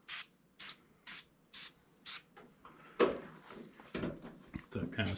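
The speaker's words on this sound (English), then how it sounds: "I'll spray some down in there." Five quick, sharp spray bursts of foaming cleaner from a trigger bottle onto a 1973-1979 Ford pickup's side window seal come in an even rhythm, then fainter rubbing and scraping sounds follow.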